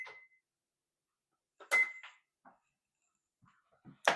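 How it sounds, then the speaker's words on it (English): An electronic oven being set to preheat to 350 gives two short, clear beeps a second and a half apart, amid quiet kitchen clatter and handling noises. "So I'm going to go ahead and preheat the oven for 350."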